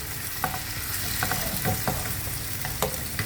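Prawns sauté in a pan with red chili powder, turmeric and salt, a soft continuous sizzle broken by scattered scraping stirs of a spoon, close and fairly quiet.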